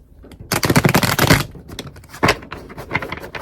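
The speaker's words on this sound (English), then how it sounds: "That was actually not a good shuffle." A deck of tarot cards is shuffled close up, a dense rapid riffle of flapping card edges for about a second, followed by lighter scattered taps and shuffling.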